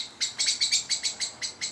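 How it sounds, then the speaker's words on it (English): A blackbird in an early-summer garden gives a rapid series of sharp alarm chirps, about ten evenly spaced calls, close and clear over a quiet background. "the blackbird's getting annoyed with my presence"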